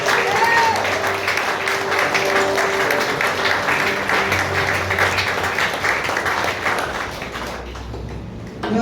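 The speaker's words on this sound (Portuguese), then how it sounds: "Dê um aplauso ao Senhor," A church congregation applauds steadily through a celebration service, dense sustained clapping filling the room from start to finish with a faint voice now and then beneath it, thinning slightly near the end.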